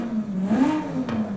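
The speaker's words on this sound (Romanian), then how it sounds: "V8-ul ăsta sună total greșit." A V8 engine revs in a racing video game with a steady droning tone that climbs and falls through the revs, sounding close and moderately loud with no talk over it.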